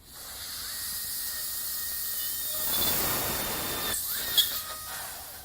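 A dental drill boring holes in the jaw during full-arch implant surgery, a thin high whine that rises in pitch, cuts out, then starts again, with hissing water spray close by.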